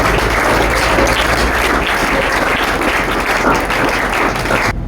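A church congregation breaks into loud, sustained applause that fills the room evenly for several seconds before cutting off.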